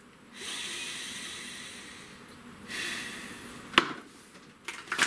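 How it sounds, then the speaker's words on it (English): Deep breathing sounds close and alone: two long airy inhales or exhales rising and fading, followed by a few sharp short sniffs or snorts near the end. "Breathe."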